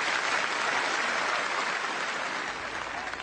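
Crowd applause at a rally of striking British workers protesting over jobs, a steady dense wash of clapping at moderate level that holds for the whole stretch and eases slightly near the end.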